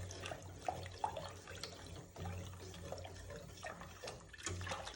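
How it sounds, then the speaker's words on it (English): A pot of chicken mushroom soup with herbs and spices is stirred, giving a steady, soft liquid swishing and sloshing with a few light knocks, close by and alone. "Give that a stir."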